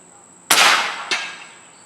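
A Hatsan Bully .358 air rifle firing a 106-grain pellet at 200 bar: one sharp, loud crack with a long decaying hiss, followed half a second later by a second, quieter impact clang, with no talking.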